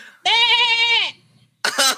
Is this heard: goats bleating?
yes